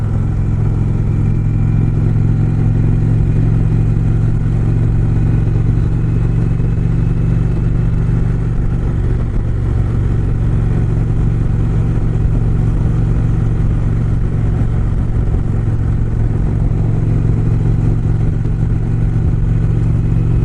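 An Indian Springfield motorcycle cruises along summer roads near Lake Champlain, its engine a loud, steady low rumble with a constant drone and wind rush throughout, no voices.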